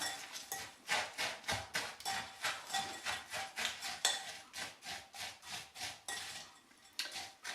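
Amaretti biscuit crumbs being worked together with egg and butter in a bowl, a steady run of rhythmic scraping, tapping strokes of a utensil, close and fairly quiet, with no talk.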